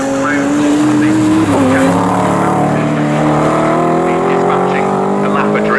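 GT race cars on a circuit, an orange Porsche just ahead of a Ferrari 488, engines screaming loudly and close with rising and falling pitch through gear changes, a commentator talking over the roar.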